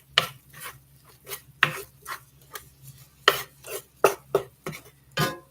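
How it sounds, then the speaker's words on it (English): A spatula scrapes and taps through ground beef browning in a pan for a crockpot cheeseburger soup, a close, steady series of about a dozen short scraping strokes with no talking. "Oh, I gotta watch my ground beef here, or my ground turkey, so I'll keep breaking it up."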